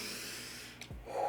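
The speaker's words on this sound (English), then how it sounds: "Let's breathe." A single deep breath drawn in close to the microphone, a short soft inhale followed by a brief exhale, quiet and alone.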